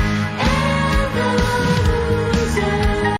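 Live band drums in a cover song hit steady, punchy beats within the full music mix, loud and close, with no voices speaking over them.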